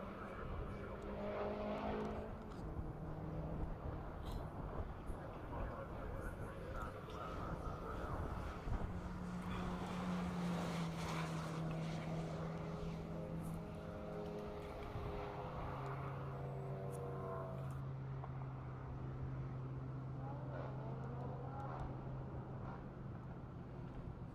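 A time attack race car on a hot lap at Road Atlanta drones in the distance, its engine note rising and shifting across the run, faint beneath steady crowd and track ambience with some talking.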